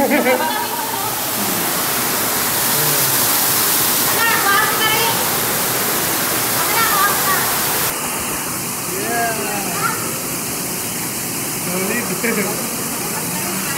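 Waterfall water roars as a dense, steady rush inside a rock tunnel behind the falls, loud and close, with people talking faintly over it at times.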